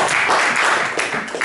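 Congregation clapping during a church service, a dense, steady wash of hands that swells and dips slightly over a brief moment, fairly close.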